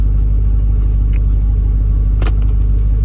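A Porsche 996 with a twin-turbo LS engine swap runs with a loud, steady, close low rumble, joined by a few brief higher-pitched mechanical ticks.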